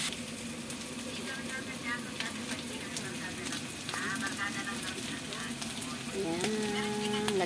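Bitter gourd (ampalaya) sautéing in a pan sizzles steadily while a utensil stirs it with scraping clinks; a voice talks over the cooking.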